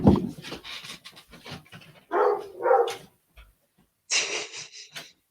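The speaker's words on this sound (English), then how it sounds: "Oh, the puppies." Puppies pant and huff in quick, breathy bursts close by, separated by short pauses, with a higher-pitched panting burst near the end.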